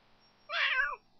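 One short, clear cat meow from The Sims 3 video game, close and bright, stands alone against near silence.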